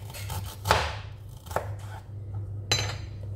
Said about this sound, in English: I'm going to be slicing it.